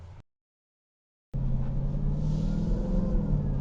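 The engine of a 2021 Dodge Durango SRT Hellcat, a 710 hp three-row AWD SUV, rumbles with a deep, steady drone while driving on the street, after a brief silent gap.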